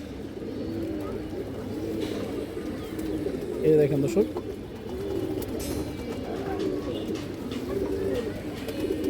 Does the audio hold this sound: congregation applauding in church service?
no